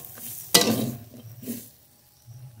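Potato peels being stirred and fried in a pan, with one sharp scrape of the spatула followed by soft sizzling and a couple of quieter stirring scrapes, close and fairly faint, with no talk.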